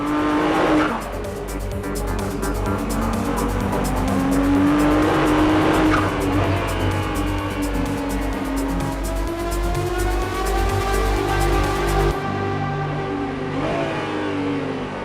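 Ferrari 296 GTB driven hard, its engine revving up and down through gear changes with tyre squeal during cornering, loud and close throughout before easing off near the end.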